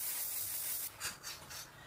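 Makeup setting spray misted from a pump bottle in a few quick bursts, each a soft airy hiss, close by, following a brief rubbing sound, with no talk.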